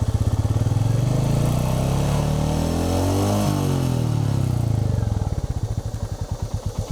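A Royal Enfield Meteor 350 quarter-litre cruiser motorcycle revs up and settles back, its thumping single-cylinder exhaust rising in pitch and falling to a loping idle, close and fairly loud.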